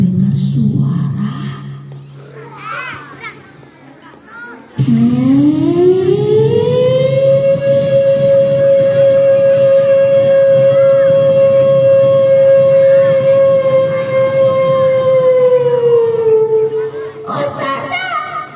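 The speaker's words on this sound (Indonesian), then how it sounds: "aku mendengar suara tanda bahaya" A warning siren over the Gaza city settlement in a children's story, rising into a long, loud, steady wail that holds for over ten seconds before dropping off, with faint voices before it.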